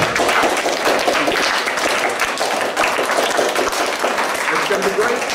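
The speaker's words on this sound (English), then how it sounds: "we want to give Mr. Lowell a round of applause and thank him" Audience applause for guest speaker Paul Lowell after a high-altitude ballooning talk, a steady dense wash of clapping filling the room for several seconds at a fairly loud, even level.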